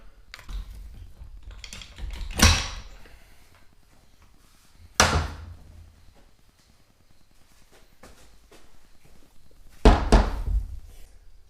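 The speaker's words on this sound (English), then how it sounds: "You can see it's prying up on the pump a little bit." A transmission pump being pried out of a 4L60E transmission gives three sharp metallic clunks spaced a few seconds apart, with faint scraping and tapping between them and no talking.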